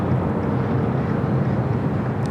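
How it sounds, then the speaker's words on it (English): An American Airlines Boeing 787-9 Dreamliner arrives at LAX from Tokyo Haneda, a continuous, dense engine rumble holding at a steady, fairly loud level for the whole stretch, with no talking. "Next arrival is an American Heavy, a 787-9 Dreamliner Flight 26"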